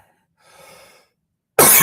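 A single loud, harsh cough bursts out near the end, after a faint breathy rustle and a moment of quiet.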